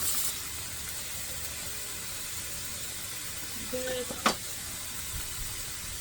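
Ground turkey and chopped onion sizzle in a pan with an even, close hiss, a short scraping sound and one brief clatter near the end, with no voices.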